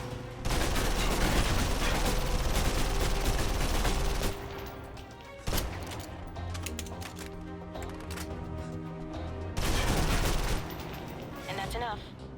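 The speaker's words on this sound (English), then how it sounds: "If you're trapped in close quarters with multiple opponents, the SMGs can help clear the room quickly. Not subtle or quiet" Submachine gun fire in the video game Alpha Protocol, dense rapid automatic bursts that rattle continuously in long stretches with brief pauses, loud and up close, with someone talking over parts of it.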